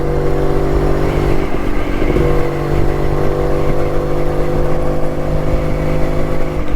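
Vintage Jawa 250cc motorcycle riding on the road toward Dhanushkodi, a loud steady engine drone with a sustained tonal hum and wind rush, continuous throughout.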